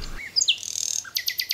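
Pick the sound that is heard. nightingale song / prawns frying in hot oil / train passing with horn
nightingale song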